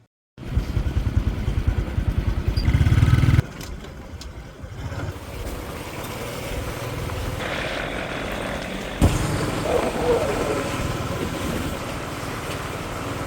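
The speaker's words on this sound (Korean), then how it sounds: "그냥 오토바이만 지나가는 길가" Loud motorcycle engines rev and roar nearby on a roadside in Vietnam, then the noise shifts to a steady drone of passing traffic that continues to the end.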